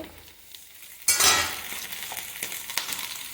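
Okra and garlic curry frying in a pan bursts into a loud sizzle as it is stirred after a quiet start. The crackling frying continues with small utensil scrapes and no talking.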